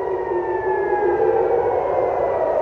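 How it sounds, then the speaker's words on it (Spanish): Air raid sirens wail steadily in Tel Aviv near the Azrieli towers, a continuous sustained drone with slowly shifting pitch, loud and unbroken, with no voices heard. "sirenas sonando justo frente al Azrieli"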